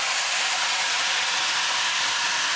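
Loud, steady hiss of water steaming in a hot pan of spring vegetables for an egg fried grains dish, a dense sizzle that stays even throughout, with no talk.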